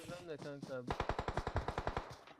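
A rapid burst of about a dozen automatic gunshots rings out in PUBG Mobile, following a short stretch of speech.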